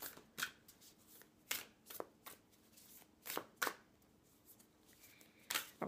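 Oracle cards from a projective, poetic deck are shuffled by hand in a quiet room: a series of crisp, papery riffling bursts that come in irregular clusters with short pauses between them. No voices are heard.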